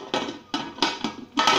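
A metal pressure cooker lid is set on and closed for cooking rice, giving four sharp clanks and scrapes in quick succession at close range.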